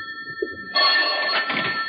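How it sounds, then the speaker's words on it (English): A vintage telephone bell used as an old-time radio drama sound effect starts ringing abruptly partway in and continues steadily and brightly to the end, with no voices over it. "the phone interrupted my first cup of coffee the next morning at 10:30"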